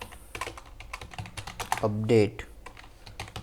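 Someone types quickly on a computer keyboard, a close, brisk patter of key clacks under a man's speech, with a brief louder burst of voice partway through.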